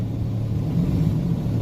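A truck engine rumbles low and steady with a slight swell as the throttle is blipped during a missed gear shift, close and alone without talk.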